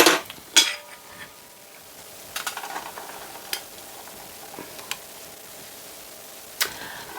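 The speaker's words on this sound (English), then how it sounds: "Putting it into the ricer, and then we just do this." Mashed potato being pressed through a potato ricer for a fish pie, heard as scattered clanks and scrapes of metal utensils, a few sharp knocks spaced irregularly over a quiet kitchen background.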